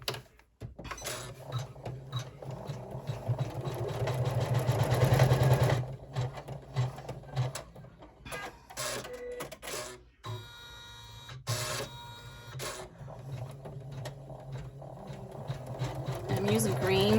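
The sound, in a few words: embroidery machine stitching a fold line on a hoop bag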